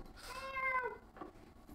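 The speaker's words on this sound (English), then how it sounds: "Oh, there's a kitty in the background." A house cat lets out one drawn-out meow in the background, followed by a softer short sound, with no talking over it.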